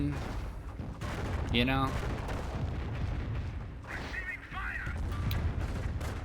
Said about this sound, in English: Preemptive Cali barrage going in